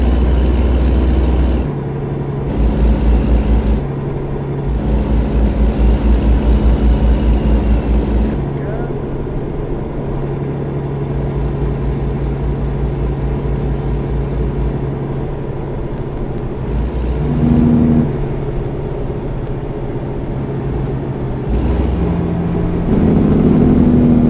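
A Kenworth K100E truck in American Truck Simulator cruising at highway speed around 60, with a loud, steady engine drone whose pitch shifts slightly as the throttle changes throughout.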